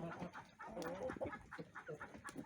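Naked neck chickens clucking in a backyard flock, hens and roosters together: soft, irregular clucks and murmurs, quiet and near, with a low voice briefly underneath.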